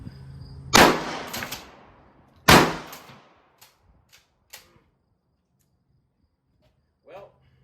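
A Stevens 350 12 gauge pump-action shotgun fires two loud, sharp blasts of alternating buckshot and slug loads, each trailing off in an echo. Metallic clacks of the pump action and a few quieter knocks follow.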